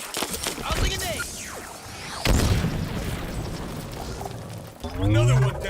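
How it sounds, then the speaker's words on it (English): A grenade goes off in Halo Infinite, a sharp, loud boom at about two seconds followed by a rumbling tail, set among other game effects and talk. "Tossing a nade."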